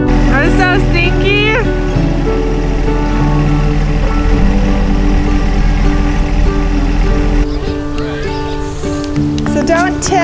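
A tractor engine runs with a steady, low, continuous drone while tilling a flower field. People talk over it throughout.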